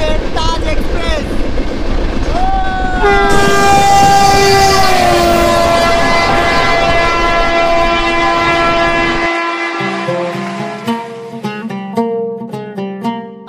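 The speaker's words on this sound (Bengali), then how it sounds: "আর এটাই হচ্ছে আমাদের তাজ এক্সপ্রেস।" The 12280 Taj Express, running from Delhi to Agra, sounds a loud, sustained multi-tone horn over a heavy rumble, then the blast fades into a rhythmic clatter of rolling wagons close by.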